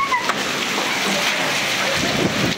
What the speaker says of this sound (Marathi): काचा फुटू शकता एवढा मोठा गारा आहे.